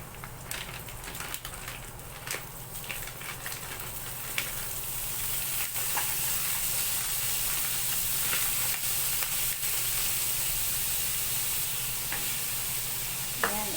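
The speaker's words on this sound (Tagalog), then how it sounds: "Frozen na vegetables to yung ihahalo natin guys." Frozen vegetables are stirred into java rice frying in a pan, giving a steady close sizzle under repeated scraping stirs that continue throughout with no talking.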